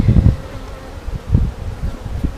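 Honey bees buzz around an open hive in a farm bee yard after being smoked, a close, steady drone with pulsing low swells as individual bees pass near.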